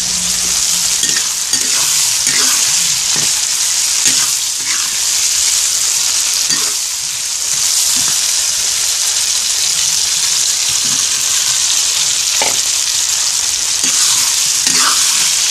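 Steady, loud sizzling of onions, tomatoes and chilies frying in hot oil for sambal, with occasional stirring clinks and scrapes throughout.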